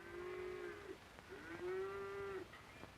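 Cattle lowing on a high alpine pasture in Switzerland, two long drawn-out moos in succession, fairly close and clear against a quiet outdoor background.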